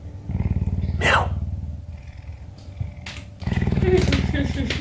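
A pet cougar purrs while being brushed indoors, a low steady rumbling throb that runs nearly throughout at close range, with someone talking softly over it.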